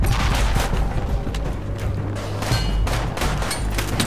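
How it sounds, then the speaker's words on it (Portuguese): Dense gunfire from the tactical shooter Project Reality, with rapid overlapping shots and booming reports in steady bursts, loud and close, continuing for the whole stretch. "Quem tá atirando em mim aí, velho?"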